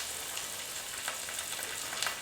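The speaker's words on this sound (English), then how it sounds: "And it will sizzle up instantly." Vegetable nuggets frying in hot oil give a steady close sizzle, a dense hiss sprinkled with small crackles and pops, moderately quiet and heard alone.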